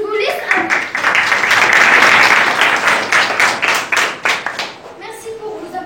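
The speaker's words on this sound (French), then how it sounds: "Merci pour vos applaudissements." A classroom audience at a school road-safety project session applauds steadily, dense clapping holding for several seconds before tapering into scattered claps, with a voice briefly audible near the end.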